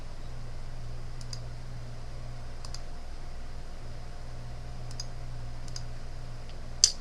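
A computer mouse gives a few faint, sparse clicks over a low steady hum, ending with one sharper, louder click.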